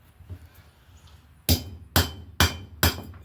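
A wheel stud is hammered into a Polaris Xplorer 4x4 ATV hub: after a quiet stretch come four loud, close metallic hammer strikes, evenly spaced about half a second apart, with no talking.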